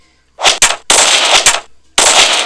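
Close, loud gunfire from a zombie-apocalypse shootout in the Draw Bricks video game: three dense, crackling bursts of rapid shots, each lasting around half a second to a second, separated by brief gaps.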